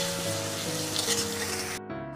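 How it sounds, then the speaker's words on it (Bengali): Spice paste with Kashmiri chilli powder sizzling as it is fried and stirred in a pan for Bengali prawn malai curry, with an even close hiss that drops away abruptly near the end. "এবার এটা খুব ভালো করে মশলাটাকে একসাথে নিয়ে কষাতে হবে"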